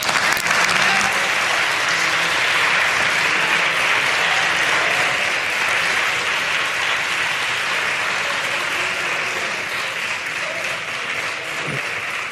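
Sustained applause fills a parliament chamber, a dense, even roar of many clapping hands continuing steadily without a break and easing only slightly near the end.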